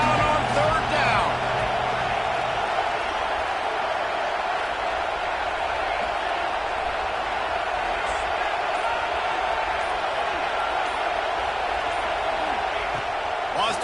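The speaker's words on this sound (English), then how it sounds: "This crowd unhinged, trying to make sure the Gators don't back down on third down." A stadium crowd at a Florida Gators football game roars on a third down, a steady, dense wall of noise that runs throughout while a commentator talks over it.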